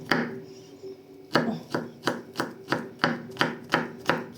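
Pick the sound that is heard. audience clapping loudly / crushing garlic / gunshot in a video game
crushing garlic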